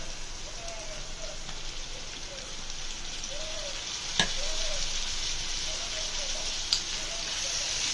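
Chopped tomatoes frying in oil for brinjal tomato curry, a steady hissing sizzle with occasional spoon scrapes and a couple of sharp clicks, while a voice speaks faintly over it.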